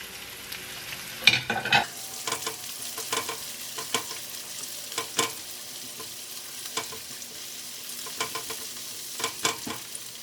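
Garlic and onion saute in a pan as the base for ginisang sayote. A faint, steady sizzle runs under repeated sharp scraping strokes of a spatula, with a louder clatter near the start.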